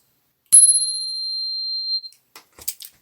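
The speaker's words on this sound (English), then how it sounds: "I needed a bike bell" A bicycle bell gives one bright ring that hangs for about a second and a half before fading, followed by a few faint handling clicks, with no voices.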